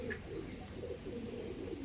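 Andhra pigeons coo softly in a low, murmuring stream, held in a pair offered for sale at Khardah.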